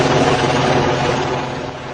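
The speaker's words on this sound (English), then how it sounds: "As the helicopters passed over" Steady rotor thrum of helicopters overhead, a loud continuous low whir that fills the whole moment.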